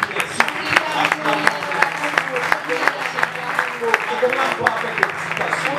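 A church congregation at a Sunday worship service claps and cheers for Jesus: dense, uneven rhythmic clapping runs throughout with voices talking and calling out over it.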